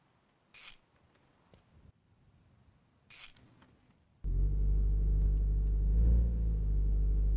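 A car being parked in the video game My Garage: two brief clinks early on, then a loud, steady low engine drone starts partway through and holds to the end, alone with no talk.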